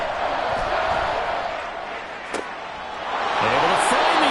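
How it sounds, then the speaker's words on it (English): A stadium crowd in an American football video game roars steadily, swelling louder toward the end, with a commentator talking over it and a brief sharp thud in the middle. "This crowd turning up the decibel level."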